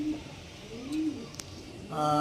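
Kalshira pigeons in a loft give a couple of low, drawn-out coos close up, and a brief voice cuts in at the very end.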